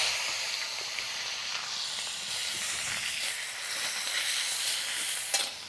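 Chopped onion sizzling in hot oil with cumin, dried chilli and whole garam masala, a steady soft hiss and crackle throughout with a few sharper pops near the end.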